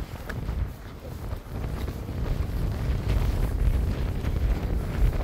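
Wind gusts buffet the microphone in a steady low rumble in Edinburgh, swelling slightly stronger partway through, with no voices.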